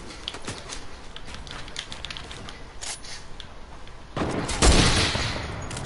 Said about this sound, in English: Oh shoot, somebody shot at me.